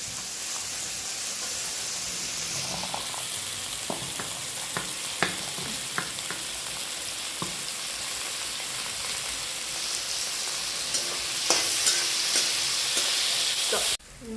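Capsicum frying in a little oil in a home kitchen pan, steady sizzle with scattered scraping stirs and clicks, rising slightly near the end, no voices.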